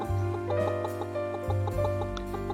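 Chickens in the farming video game Pumpkin Days cluck in repeated short bursts over a steady looping game music bed, close and fairly loud, with no talk.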